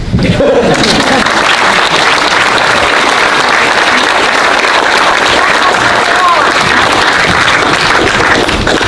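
A large audience at the Delta Champions Awards at Grand Island Vineyards in Walnut Grove, California, claps for honored recipients in a loud, steady round of applause that lasts throughout, with crowd voices mixed in.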